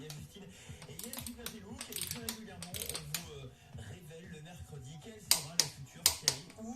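Ratchet tightening bolts on a Peugeot 309 GTI engine during a rebuild, giving quick clicking bursts and a few sharper metallic ticks near the end while someone talks over it.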